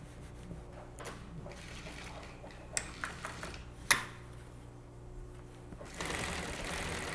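A sewing machine runs steadily, stitching seam pieces onto a convertible top; a continuous mechanical hum with a few sharp clicks partway through and a louder stretch near the end.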